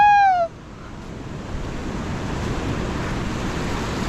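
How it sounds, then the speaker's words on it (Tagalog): Steady broadband wash of ocean surf on a windy day during a fishing outing, continuous and fairly close, with wind buffeting the microphone; it follows a short whistle-like tone at the very start. "malalaki ang alon ngayon mga pawe"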